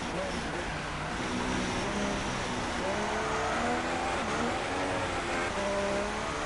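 Race car engine revving through wet-weather driving in a racing video game, a steady loud engine drone with rising and falling rev sweeps under constant commentary.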